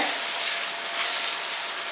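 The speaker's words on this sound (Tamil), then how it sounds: "இப்போ எல்லாமே சேர்த்து கிளருங்க" Steady sizzling and frying of onion and curd in a pan with soft stirring, a continuous close hiss without pauses or talk.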